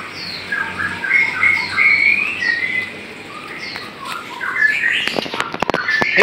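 Several murai songbirds call from a bird-keeping setting in Boyolali, giving repeated bright chirps, squawks and whistled phrases over a steady background hum, with a few sharp clicks near the end.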